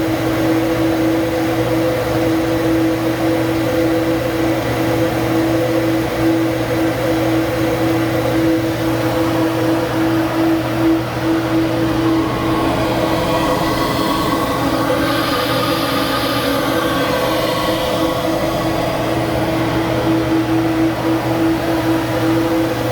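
Flow bench test of an S&B cold air intake for a 3.6L Colorado/Canyon: a loud, steady mechanical drone and rushing air hum running unbroken the whole time, with a slight swell in airflow noise later, no voices.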